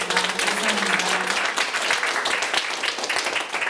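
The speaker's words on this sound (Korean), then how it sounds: "박수 한번 쳐주시겠습니다" A gathered audience at a church rally claps in a dense, steady burst of applause that fills the whole span, with a faint voice briefly underneath near the start.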